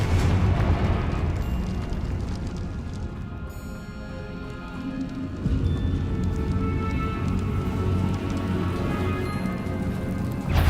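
Fiery Confringo spell blasts in Hogwarts Legacy combat, a loud, continuous roar of crackling, rumbling bursts with a brief dip midway before the dense barrage resumes.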